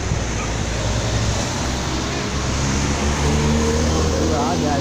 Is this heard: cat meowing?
no